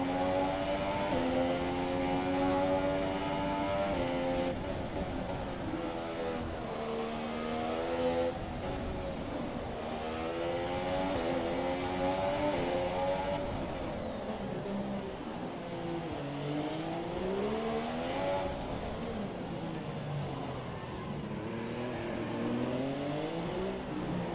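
A Formula 1 car engine from the F1 2017 video game screams through a qualifying lap of Monaco, its pitch rising and falling steadily with upshifts and downshifts, loud and continuous for the whole stretch.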